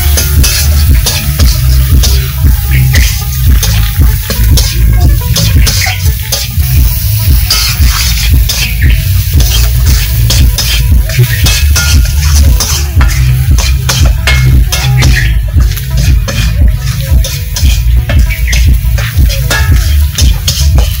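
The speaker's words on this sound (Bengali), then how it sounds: "এখন আমি পেঁয়াজটা ভালো করে ভেজে নেব।" Onions fry loudly in a pan with salt, turmeric and chili powder, a constant close sizzle broken by frequent scraping stirs of a spatula against the metal.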